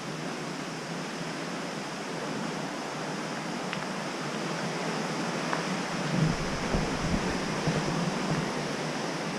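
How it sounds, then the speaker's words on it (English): A river flows beside a canal lock and swing bridge, giving an even, continuous rushing hiss that stays moderately loud throughout, with a slight swell near the end and no one talking. "This is the river flowing."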